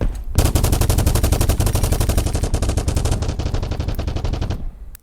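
Rapid automatic gunfire rattles nonstop for about four and a half seconds in the shooter game Battlebit Remastered, loud and close, then cuts off abruptly.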